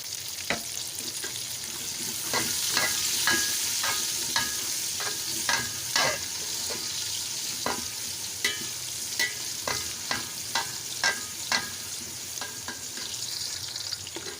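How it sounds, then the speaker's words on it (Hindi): Onions sizzling in hot oil over a garlic-ginger paste, with steady frying hiss and repeated sharp clinks and scrapes of a spoon stirring the pan at close range, no talk. "अब मैं इसमें डालूँगी प्याज और इसको थोड़ा सा लाइट ब्राउन सा कर लेंगे प्याज को हम।"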